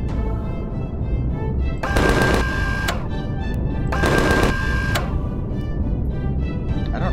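A rifle fires in the space survival game Empyrion Galactic Survival as two short bursts of rapid shots, each about a second long, loud over a constant low hum.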